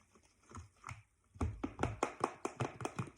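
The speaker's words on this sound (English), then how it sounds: "And I give this a good stir." A spoon stirs milk powder into whole milk for homemade yogurt, giving close, rhythmic scraping clinks against the container that start softly and become steady, quick repeated strokes.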